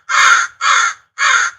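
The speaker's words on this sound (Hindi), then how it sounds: "कहीं से एक कौवा वहां आकर बैठ जाता है और काव काव करने लगता है।" Three loud, harsh crow caws ring out one after another, close and clear with brief silent gaps between them.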